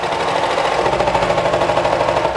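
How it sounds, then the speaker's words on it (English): A sewing machine stitches the inseam of a pair of leggings, running at a steady, rapid, close-up whir with an even mechanical rhythm and no pauses. "now we're going to stitch the inseam"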